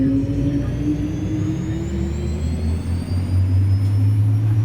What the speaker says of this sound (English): as long as you hear the engine start up